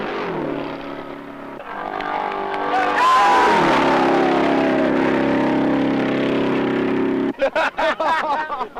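Craig Breedlove's race car runs a night-time 12-hour record attempt on a Texas track in 1968, its engine droning steadily and loud, rising in pitch, then giving way to rapid choppy bursts near the end.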